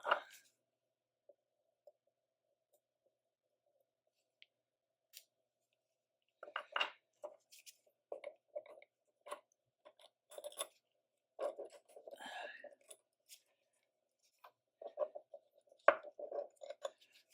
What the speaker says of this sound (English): Now I'm going to take out the screws that hold the barrel bridge in and take the barrel bridge off